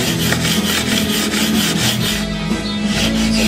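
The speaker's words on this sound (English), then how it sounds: "I'm going to work on this with the coarse file for a while" Coarse file working steel guitar frets during a refret, shaping a beveled edge, a loud close rasping scrape in steady back-and-forth strokes with no talk.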